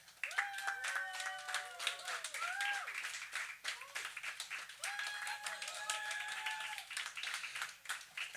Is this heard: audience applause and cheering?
yes